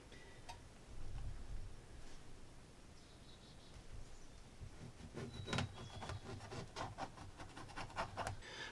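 A sewing machine stitching a diagonal line across quilt fabric blocks for a table runner, heard as a soft, steady run of fast ticking needle strokes that grows busier toward the end, close but quiet.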